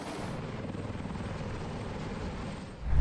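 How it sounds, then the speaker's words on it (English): An AH-1Z Viper attack helicopter with twin General Electric T700-GE-401C turboshaft engines, giving a steady, fairly loud rotor throb and engine whine that swells slightly at the end. "The AH-1Z Viper is powered by two General Electric T700-GE-401C turboshaft engines"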